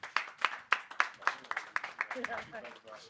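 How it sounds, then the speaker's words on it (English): A small audience claps to welcome a Kenyan health director, a sparse run of distinct hand claps at moderate distance that thins out, with a voice speaking near the end. "Kenyans, let's give them a round of applause."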